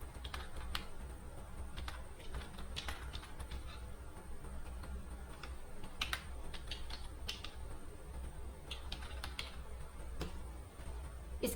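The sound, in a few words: typing an email ID on a computer keyboard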